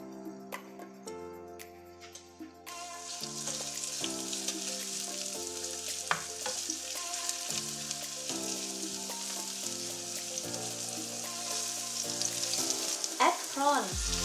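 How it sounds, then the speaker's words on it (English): Curry paste fries in hot oil in a wok for Thai drunken noodles, pad kee mao, giving a steady close sizzle with occasional stirring scrapes beneath background music. "Add the paste in hot oil."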